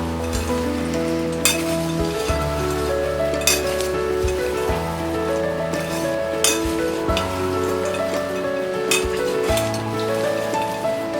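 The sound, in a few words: mixing sabudana chivda with potato wafers in a bowl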